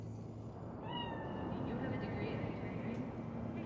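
A cat meows a few times in the city streets of the video game Cyberpunk 2077, the short cries rising over a steady hum of ambient noise.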